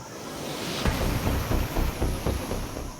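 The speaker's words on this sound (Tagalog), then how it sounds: "Kapag ganito kagalit ang alon," Rough, angry waves on the Tamugan River in Davao City make a steady broadband rush and churn, with a few heavier surges breaking through, near and fairly loud with no talk.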